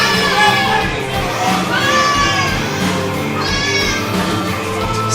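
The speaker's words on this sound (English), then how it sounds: "Spade jawing with the crowd here at ProSouth. And the crowd giving it back to him." A crowd at a ProSouth wrestling event shouts back at a wrestler, loud overlapping jeers and high-pitched yells from many voices filling the hall continuously.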